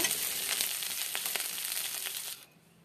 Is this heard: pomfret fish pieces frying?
yes